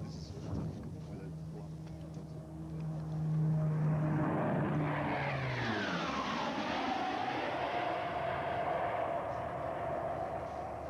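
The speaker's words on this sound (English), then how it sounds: "here's its first high speed pass. It's about 100 feet, 700 kilometres an hour, and just feel the noise that goes past." A military jet makes a low, high-speed pass at an airshow at Wanaka, its engine roar swelling loudly then sweeping down in pitch as it screams past and fades into a lingering rumble, with a voice earlier.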